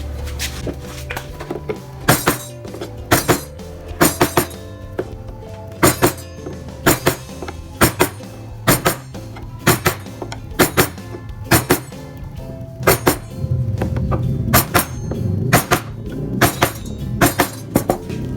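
Chisel strikes on wood during hand carving: a steady series of sharp, loud knocks, roughly one or two per second, close by with no talk and a faint low background hum.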